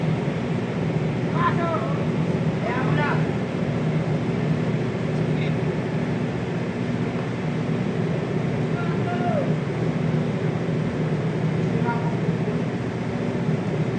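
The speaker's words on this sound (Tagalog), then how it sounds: "Tuloy-tuloy yung motor tuloy-tuloy." A heavy equipment engine runs continuously during demolition of a barangay hall, a steady mid-level mechanical drone that persists under intermittent voices talking nearby.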